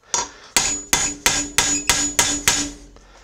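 A hammer strikes a chisel against a hardened bearing race on a Craftsman riding mower: seven sharp metallic blows in an even rhythm, each ringing briefly before the next.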